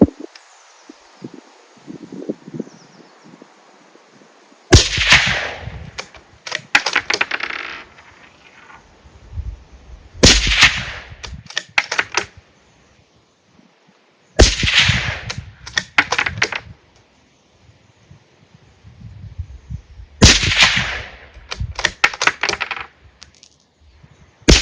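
Mossberg MVP Precision rifle firing 6.5 Creedmoor rounds: four sharp, loud shots spaced several seconds apart, each followed by clattering bolt-action cycling, with near-silence between.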